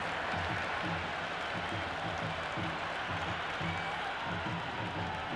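A stadium crowd in a cricket video game, an IPL match between Lucknow Super Giants and Chennai Super Kings, cheers and applauds in a steady, dense roar that runs the whole time without a break.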